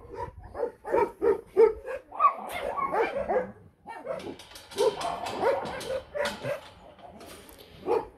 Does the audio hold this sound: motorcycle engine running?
no